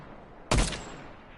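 A single sharp gunshot in the video game Fortnite, sudden and loud after near quiet, with a brief bright crack that decays over a fraction of a second.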